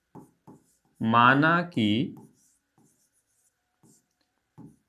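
A pen or pencil writes out a math solution on paper for a Class 10 irrational-numbers proof, with faint, sparse scratches around a short stretch of spoken explanation.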